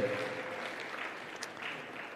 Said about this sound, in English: Ladies and gentlemen, another round of applause to Dr. Rasha Ķēkļģe.